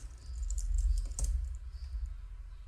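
Computer keys are pressed in a short burst of soft clicks while coding a NodeJS script, close and fairly quiet, with no talk.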